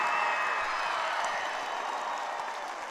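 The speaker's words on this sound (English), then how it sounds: "One huge round of applause for both of these teams on a terrific game today." A crowd applauds steadily after a girls' state semifinal basketball game between Turkey Valley and Exira/Elk Horn-Kimballton, a dense wash of clapping and cheers filling an Iowa gym, easing slightly toward the end.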